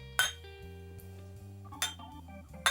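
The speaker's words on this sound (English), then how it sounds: "Clink, clink, clink, clink, clink." Glasses clink together in a whiskey toast for World Whiskey Day. There are three sharp, ringing clinks spaced apart, heard over a soft tonal background.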